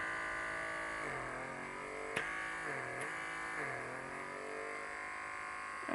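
Dermasuction pore vacuum device running on its first speed and rubbed over a forehead: a steady close electric buzz with a faint whine, its pitch dipping several times as suction takes hold and lets go, with no talk.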